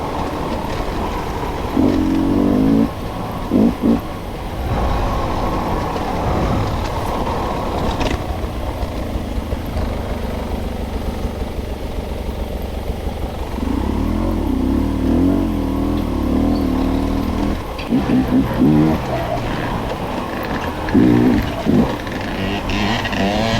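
Dirt bike engines run continuously along a trail through dark pine timber in the Palisades area of Idaho, with a loud, close drone and several rising revs as the bikes accelerate. No voices are heard.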